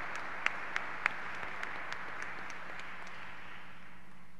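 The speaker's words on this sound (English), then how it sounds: "How about a round of applause for all of our volunteers?" A church congregation at a Holy Family Mass applauds its volunteers, a steady wash of many hands clapping at moderate distance, with a few sharper individual claps standing out early on before the sound evens into a sustained roar.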